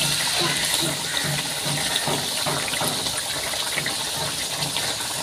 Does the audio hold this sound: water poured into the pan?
yes